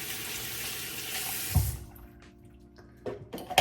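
A face cleansing brush is rinsed under a running tap, with a strong steady water stream that stops abruptly, followed by a few faint drips and small clicks.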